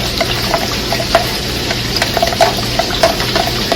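A spoon stirring cold water into gravy, scattered light scraping clinks over a broad steady hiss, close and fairly loud, with no talking.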